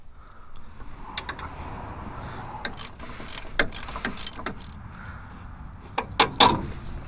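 Ratchet wrench loosening 21 mm shock absorber bolts and nuts on a 2005 Chevy Colorado, with close, loud bursts of rapid metallic clicking in several separate runs and short pauses between them.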